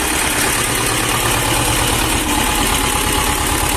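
A T-25 tractor's engine runs steadily just after air has been bled from its fuel system, a loud, close, continuous mid-pitched diesel chug with even rhythm and no voices.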